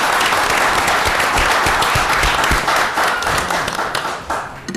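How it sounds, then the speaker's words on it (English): Loud, dense applause from a meeting audience fills the whole stretch, steady throughout and tapering a little toward the end. "please give them another round of applause"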